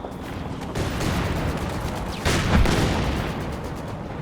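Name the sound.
artillery gun firing in Company of Heroes 2 video game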